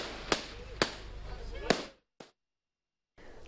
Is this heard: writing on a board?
no